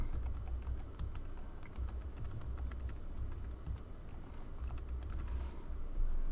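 Steady typing on a computer keyboard during a design class lesson: rapid, fairly faint key clicks run continuously over a low background hum, with no talk.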